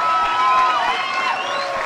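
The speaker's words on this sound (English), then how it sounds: "Ladies and gentlemen, clap your hands for both of the fighters in this cage." A cage-fighting event crowd cheers and applauds both fighters with a loud, sustained roar of shouts, whistles and clapping from a packed room.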